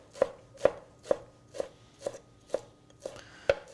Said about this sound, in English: using a very sharp knife, cut it into little shreds